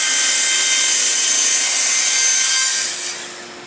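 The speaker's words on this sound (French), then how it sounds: "On y va avec la scie" Power saw at reduced rotation speed cutting aluminium for a solar thermal panel frame, producing a loud, continuous, harsh high-pitched grind that eases off near the end, with no talking.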